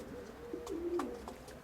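A pigeon gives a soft, low cooing call, a single brief rolling coo heard close in a quiet room.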